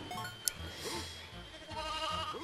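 Sheep bleat in the Toy Story 2: Buzz Lightyear to the Rescue video game, several wavering bleats close up over a busy game soundtrack with a sharp click early on.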